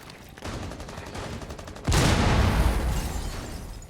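Rapid gunfire rattles in a competitive esports shooter match, then a heavy grenade blast erupts midway and leaves a loud, rumbling wash of noise under continued shooting.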